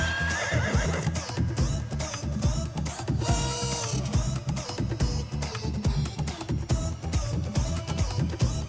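A horse neighs in a Bollywood action comedy fight scene, the whinny buried under a loud, dense film soundtrack with constant music and effects, with no speech.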